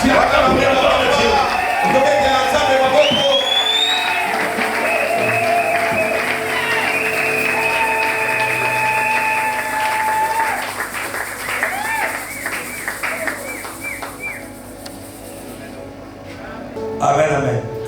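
A church congregation cheers and applauds at a religious gathering, a crowd roar of clapping mixed with whoops, singing-like voices and an announcer's speech over it, fading toward the end before a brief renewed swell.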